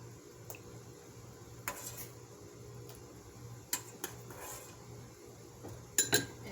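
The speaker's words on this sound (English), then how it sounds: "So just taking these out, with a spoon" A metal spoon scoops boiled tapioca pearls out of a cooking pot, giving faint scattered clinks and scrapes against the pot over a low kitchen hum.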